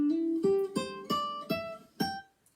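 Guitar playing a short lick, about six clean, distinct plucked notes in an even rhythm, each decaying quickly, played alone and fairly quiet.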